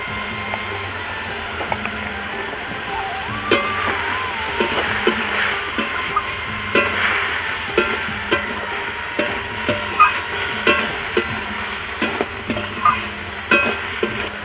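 A spoon scrapes and clacks rhythmically in a pan while salt and turmeric powder fry, the repeated stirring strokes ringing clearly over a faint, steady sizzle.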